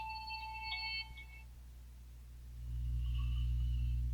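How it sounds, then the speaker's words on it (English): A beeping electronic alarm sounds in short repeated tones at a moderate distance, fading after a second or so, followed by a low rumble swelling underneath. "Goes my alarms again."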